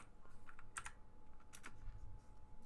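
A computer keyboard clicks in a quiet room, with a handful of soft, scattered keystrokes coming in short bursts and no one speaking.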